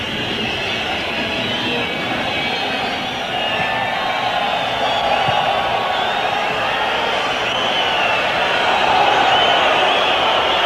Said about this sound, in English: And this is the crowd's understandable reaction.